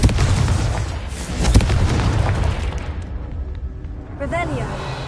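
A Confringo fire-spell blast in Hogwarts Legacy on PS5, a loud booming explosion with rumbling debris that fades after a few seconds, followed by a bright magical shimmer.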